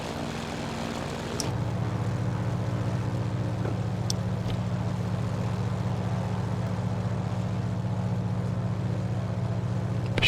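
A Grumman F4F Wildcat taxiing, its propeller engine giving a steady low drone that steps up in loudness after about a second and a half and then holds, heard from a distance with no talking.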